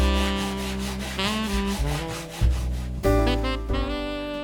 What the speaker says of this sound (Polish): Podstawowe kawałki dokładnie szlifujemy ze wszystkich stron.